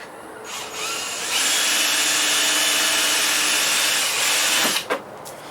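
A power drill runs steadily for several seconds driving screws into wood while setting up a work space, starting after a short buzz and stopping abruptly near the end, close and loud with no talking.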